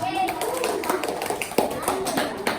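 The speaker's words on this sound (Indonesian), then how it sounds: "Tepuk tangan" Children clapping their hands together in a classroom, a quick rhythmic patter of many small claps running throughout, with faint young voices mixed in.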